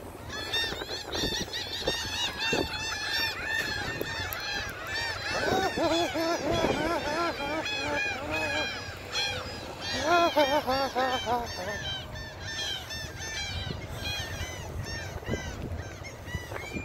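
Seagulls at Seawolf Park in Galveston call nonstop, a dense close chorus of overlapping honking and squealing cries from many birds, loud throughout with no talk.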